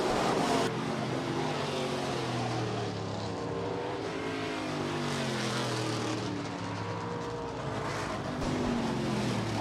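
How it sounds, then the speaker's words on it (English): USRA stock cars roar around the Rapid Speedway oval during a heat race, a dense, continuous engine drone with passing cars swelling and fading as they circle the track. "3rd and final heat race, USRA Stock Cars presented by Precision Auto Body"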